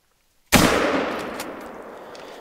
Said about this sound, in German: Hier, komm, wir schießen den.